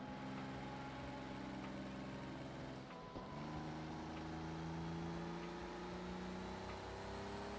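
A race car engine in Project Cars 2 hums at a steady, fairly high pitch with a brief dip and recovery, a continuous quiet drone with no talking.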